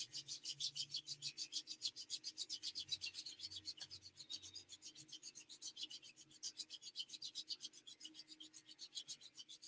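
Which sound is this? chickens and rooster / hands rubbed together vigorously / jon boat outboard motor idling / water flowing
hands rubbed together vigorously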